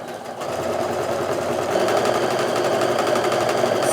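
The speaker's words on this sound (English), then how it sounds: "So now I'm going to sew with that line right next to my presser foot." Domestic sewing machine stitching quilt block triangles cut from squares, a steady fast mechanical whirr and rapid needle chatter that starts just after the opening and runs continuously, close and fairly loud, with no talking.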